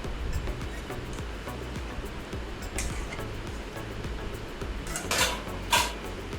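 Mutton pieces poured with water into a cooking pot and stirred, giving a sloshing, churning wash of liquid with a few sharp metallic clinks of the pot near the end, close up with no talk.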